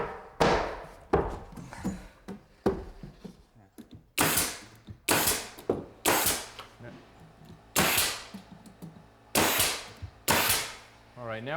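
A nail gun driving 2.5-inch nails into the face of a wooden stair riser during farmhouse construction, a series of sharp close pneumatic shots at irregular intervals, some doubled, with a voice heard between them.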